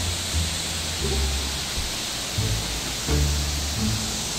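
Near Yewang Pavilion in Taroko, Taiwan, a waterfall sends up a steady broadband roar of rushing water, constant and fairly loud, with faint low voices murmuring underneath.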